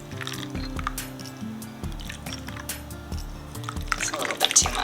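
Buttermilk is poured and stirred into rhubarb muffin batter, giving soft wet squishes and drips with quiet tapping against the bowl, close up and fairly faint throughout.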